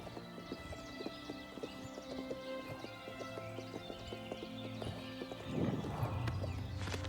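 Horse hooves clip-clop steadily while riding in the Oblivion Remastered video game, a moderate rhythmic patter over soft ambient music, with a louder burst of movement near the end.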